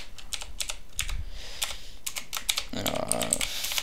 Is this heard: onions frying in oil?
no